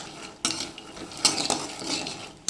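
A cup of raw peanuts is stirred while dry-roasting in a pan, with a spoon scraping and clinking against the metal and the nuts rattling in quiet bursts.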